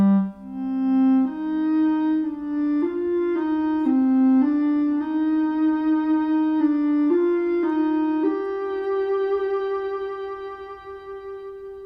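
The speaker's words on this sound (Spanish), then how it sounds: "Entonces si oigo el gambé solito, suena así." Ondes Martenot in its gambé timbre playing alone, a reedy, string-like electronic tone gliding through a slow melodic line with smooth pitch slides, close and sustained, fading near the end.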